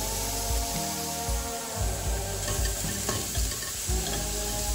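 Chopped onion being sautéed and stirred in a pan for stuffed brinjal curry, with a steady sizzling hiss and repeated scraping strokes of a spoon or spatula, close and fairly loud with no talk.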